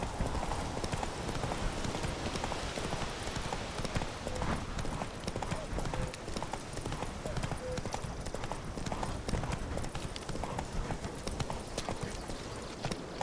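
Roach the horse gallops in The Witcher 3, a steady unbroken drum of hoofbeats running loud and close throughout, with a voice briefly over it.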